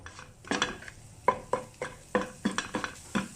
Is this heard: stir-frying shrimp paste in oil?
yes